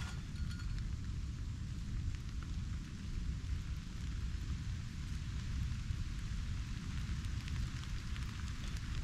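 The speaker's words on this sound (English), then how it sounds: "it starts raining" Rain falling in the woods, a steady soft hiss of drops on leaves and ground with a low rumbling background, constant and fairly faint throughout with no speech.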